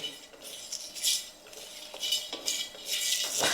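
Cardamom, cloves and black peppercorns dry-roasted over a low flame for Kolhapuri chicken sukka: a spoon stirring and scraping the whole spices around a metal pan, producing repeated close rattling clinks and swishes with no talking.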